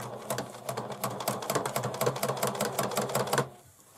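A sewing machine runs steadily, stitching over existing topstitching on the fabric of a pencil bag, its rapid needle clatter pulsing evenly for about three and a half seconds before stopping.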